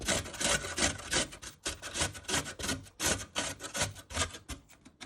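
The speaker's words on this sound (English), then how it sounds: "You're going to get the grater and you're just going to move it up and down." Rapid up-and-down rasping of food rubbed over a sharp kitchen grater, a steady run of scraping strokes, close and moderately loud with no talk.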